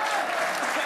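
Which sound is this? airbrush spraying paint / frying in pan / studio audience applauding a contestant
studio audience applauding a contestant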